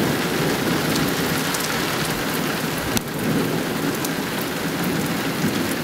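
Steady heavy summer rain pours down with a constant hiss, and a low rumble of thunder rolls underneath, with one sharp crack midway.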